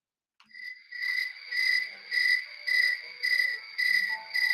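Crickets chirp in a steady pulsing rhythm of shrill, high trills, repeating about once a second and fairly close, with no talk.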